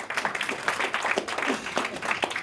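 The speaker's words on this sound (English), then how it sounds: "Give him a big round of applause." Steady applause from a crowd, a continuous patter of many hands clapping at close range.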